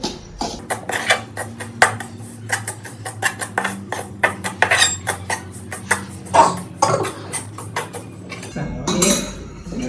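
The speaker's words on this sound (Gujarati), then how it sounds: "આપણે જો આ ખાંડનું બૂરું નાખી દીધું, બધા મિક્સ કરી દેવાનું છે" A spoon scrapes and clinks against a metal pan while powdered sugar is mixed into a ghari sweet mixture, producing irregular close knocks and scrapes over a low steady hum.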